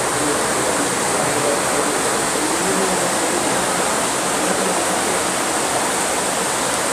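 Heavy rain pours down as a loud, even, unbroken hiss that fills the whole stretch, with no voices and no pauses.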